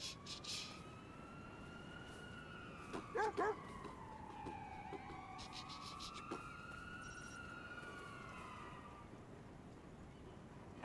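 A dog in Watch Dogs 2 gives a short burst of barks over a wailing police siren that sweeps up and down, with game background noise underneath.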